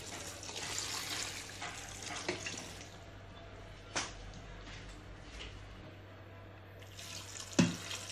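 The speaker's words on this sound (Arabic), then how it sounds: "خصنا نغطيوهم بالماء" Water running steadily from a tap into a cooking pot to cover trotters being prepared honeyed, a continuous low rush with a few soft knocks and clinks.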